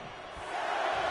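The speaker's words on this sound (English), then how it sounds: "And Nia is revving this crowd up." A crowd roars steadily in a large arena in a wrestling video game, a broad sustained wash of cheering that swells slightly louder toward the end.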